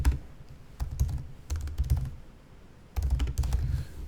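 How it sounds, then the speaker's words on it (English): Keys on a computer keyboard are tapped in short bursts, close and crisp clicking clusters separated by brief quiet gaps, the option and backspace keys pressed together. "if you press option backspace, you delete the whole word"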